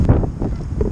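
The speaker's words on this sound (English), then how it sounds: "Wind's blowing down." Wind gusting across an open fishing lake venue during an angling match, a steady low roar buffeting the microphone with rumbling gusts throughout.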